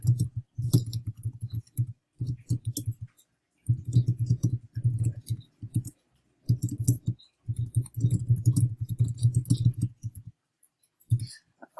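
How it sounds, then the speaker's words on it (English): A paragraph typed on a computer keyboard, close clattering keystrokes in bursts of several seconds broken by short pauses, with no talking. "Then I'm going to type my paragraph."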